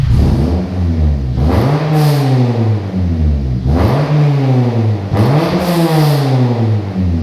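A Honda Civic EP3 Type R fitted with an M2 exhaust revs hard three times, each rise climbing into a loud, raspy, droning whine before dropping back to idle, heard close and without talk.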